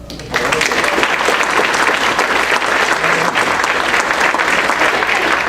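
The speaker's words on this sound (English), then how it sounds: "let's give a round of applause for my helper" An audience at a Rotary Club luncheon applauds a helper, loud dense clapping starting suddenly and holding steady and close for several seconds with a faint crowd murmur underneath.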